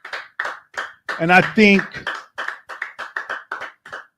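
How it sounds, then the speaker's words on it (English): Steady rhythmic hand clapping from a gathered group at a brotherhood class meeting, brisk regular claps throughout with someone talking briefly over them. "Keep clapping."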